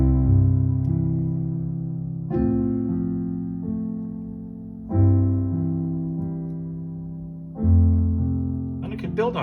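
Keyboard playing four sustained block chords, each struck and left to fade while the left hand arpeggiates low notes beneath, slow and spacious in a meditative underscore style, close with no voices.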